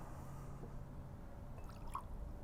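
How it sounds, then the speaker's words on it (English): Tequila cocktail poured into a smoke-filled glass, a faint liquid trickle and a few drips low under steady background hiss, with no one talking. "pour in your cocktail"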